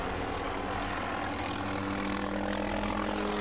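A helicopter in the video game 50 Cent: Blood on the Sand gives off a loud, continuous rotor and engine drone with steady tonal bands, unbroken from start to finish.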